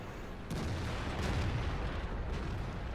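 Tank cannon fire in the World of Tanks video game, a dense, loud boom that swells in at about half a second and rumbles on with low, sustained energy before easing slightly near the end.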